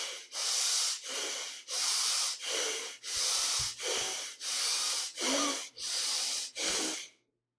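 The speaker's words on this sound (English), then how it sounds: "and now start the belly breathing." Slow, deep belly breaths during a guided meditation: about nine long airy inhales and exhales in a steady rhythm, close and clearly heard, with brief pauses between each breath and no talking.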